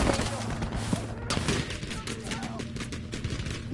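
Trench carbine gunfire in Battlefield V crackles in rapid, close shots amid busy battlefield noise, with sharp repeated reports and faint background clatter throughout.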